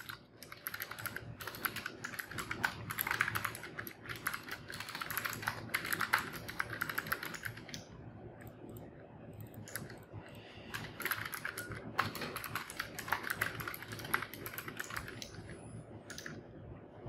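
Rapid, uneven clicking of a computer keyboard as code is typed, close and fairly quiet, in bursts separated by a brief pause.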